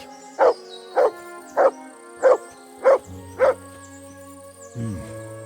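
A dog in the medieval video game Kingdom Come: Deliverance 2 gives six evenly spaced loud barks over a sustained musical drone, then a low whine at the end.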